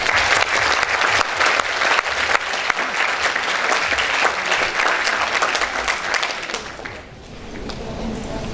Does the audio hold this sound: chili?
no